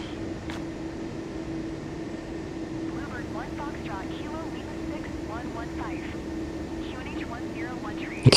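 Airliner on the takeoff roll in Microsoft Flight Simulator, a steady engine drone with a constant tonal hum, while chirping bird-like tones come and go in the middle and a sharp sound lands at the very end.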